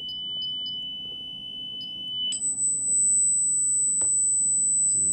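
A signal generator sounds a steady lower test tone, then switches to a thin, piercing 8000 hertz pure tone that holds evenly over a faint room hum, with a few soft clicks and no talking.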